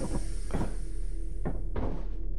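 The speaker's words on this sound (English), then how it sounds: "The door is about to open." A low mechanical door sound in the game Lethal Company, with a couple of dull thuds and a sliding rumble over a steady background hum.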